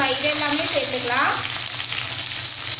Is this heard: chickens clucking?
no